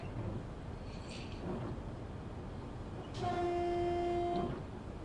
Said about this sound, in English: we gotta blow our whistle again